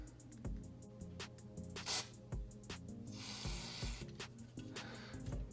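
Short bursts of electric contact cleaner sprayed from an aerosol can at an RC workstation, a few hissy blasts interspersed with soft handling clicks, close and fairly quiet.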